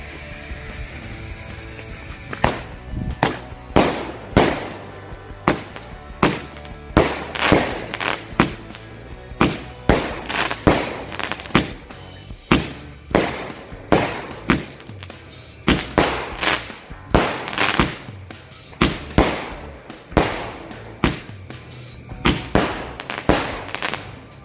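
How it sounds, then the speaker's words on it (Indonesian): Two 8-shot Roman candle fireworks lit together fire a long run of sharp, loud pops and bursts in an irregular rhythm, each shot cracking out alone with no talk over it. "yang selanjutnya kita nyalain 2 buah mercon Roman Candle. Ini yang 8 shoot, 2 buah sekaligus."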